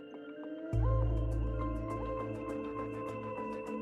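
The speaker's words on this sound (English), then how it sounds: "you can hear the siren-like roars of the Ravagers" Siren-like roars of Ravager machines from the video game Horizon Forbidden West: a loud, sustained tonal bellow begins abruptly after a short quiet start and holds steady over a deep rumble, with wavering pitched layers and faint rhythmic clicks above.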